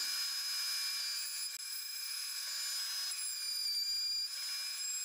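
A CNC router planing a wooden board flat, one millimeter at a time: a steady high-pitched whine of the spinning bit that holds level and continuous throughout, with no talking.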